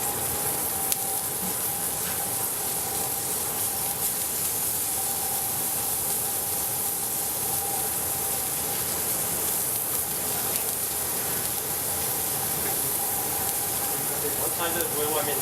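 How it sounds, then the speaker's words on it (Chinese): Scallops sear in a very hot pan, browning on both sides, giving off a continuous, even sizzle and hiss that runs steadily throughout. "那我们把干贝两面煎上色"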